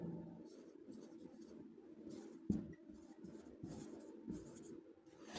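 Writing out the subject of an example sentence in an English grammar lesson, a steady scratching of a pen or marker across a surface, with quiet strokes and pauses and one sharp tap.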